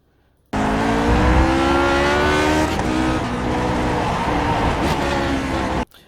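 A Lotus 49 Grand Prix race car in an iRacing sim lapping Motegi, its engine screaming loud and steady at high revs with a brief dip as the throttle lifts, then cutting off abruptly.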